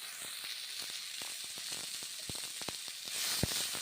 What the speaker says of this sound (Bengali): নেড়ে চেড়ে নিচ্ছি মুগের ডাল বেগুন